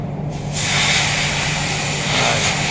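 Compressed air blasting a freshly machined part on a Haas TM-1P CNC toolroom mill: a loud, steady, close hiss begins after a brief quieter moment and holds continuously to the end.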